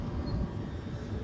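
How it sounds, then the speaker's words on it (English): A four-coach passenger train slowing to a stop at a station beside a level crossing, a steady low rumble and rolling wheel noise throughout the short stretch. "Only 4 coaches, not 8 coaches, just 4. Slowly stopping."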